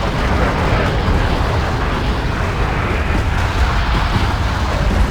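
Artillery barrages rumble in the Wargame Airland strategy game, a dense, continuous roar of overlapping explosions with no distinct gaps between them.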